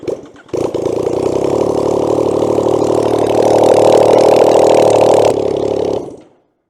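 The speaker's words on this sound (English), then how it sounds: "you would have seen the bike sitting here, sounded a bit awful, can't get the exhaust on because all the exhaust studs were snapped" A Yamaha MT-09 motorcycle with its exhaust removed because of snapped exhaust studs runs loud and close, a raw, harsh engine drone that rises slightly in revs and then cuts off abruptly before fading to silence.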